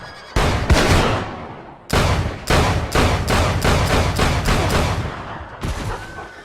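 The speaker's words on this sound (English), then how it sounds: "let's see how many times Kevin Costner's revolver actually fires without a reload" Kevin Costner's revolver fires again and again in a movie gunfight, about a dozen loud, sharp shots with echoing tails. They come in an uneven rapid rhythm with short pauses, close and alone.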